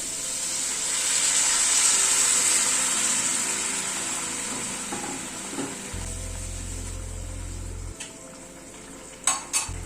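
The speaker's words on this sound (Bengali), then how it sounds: "মশলাটাকে ভালো করে 2-3 মিনিট সময় ধরে কষিয়ে নিলাম" Spice paste sautéing in a pan, a steady broad sizzle that swells early then slowly fades, with spoon scrapes and a few sharp metallic clinks near the end.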